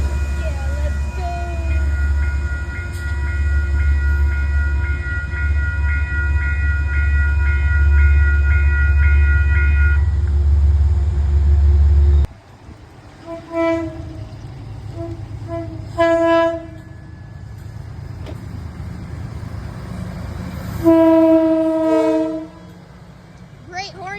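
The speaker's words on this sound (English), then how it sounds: "Great horn show there." A passenger train led by a P42 locomotive rumbles past in Peekskill with a loud, steady roar, then its horn sounds in several long and short blasts from nearby, ringing out over the fading rail noise.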